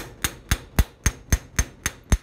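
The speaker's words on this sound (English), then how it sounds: "The more we hammer the metal, the stiffer the metal gets." A hammer striking a metal jewelry bracelet during forming, eight sharp, evenly spaced ringing blows in about two seconds, close and clear against a quiet background.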